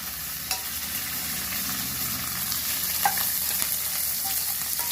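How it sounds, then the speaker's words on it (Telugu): Okra pieces and green chillies frying in hot oil, giving a steady, close sizzle with occasional soft stirring clinks, no voices. "బెండకాయ ముక్కలు ఉన్నాయి కదా కొంచెం ఆయిల్లో వేగాలి పచ్చిమిర్చి అన్నీ వేస్తున్నాను"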